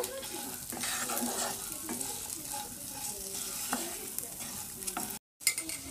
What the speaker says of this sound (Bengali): তারপর দেব লঙ্কা গুঁড়ো হলুদ গুঁড়ো সব ভালো করে একসাথে নেড়ে নেব